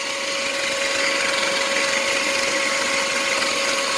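Shop vacuum sucking water out of an air conditioner condensate drain line on a Goodman 14 SEER 1.5-ton unit: a steady, loud whining roar with a constant tone, running alone without talk.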